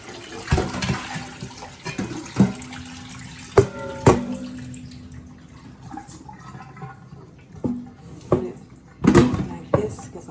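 A raw turkey is rinsed under a running kitchen tap, water splashing and gurgling over the bird in the sink with intermittent knocks and handling sounds, close and moderately loud.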